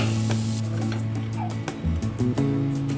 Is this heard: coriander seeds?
yes